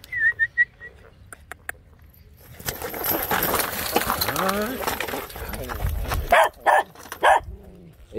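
A dog barks several times in sharp bursts near the end, beside a pond where people cast a fishing net; people talk and splash throughout before the barks.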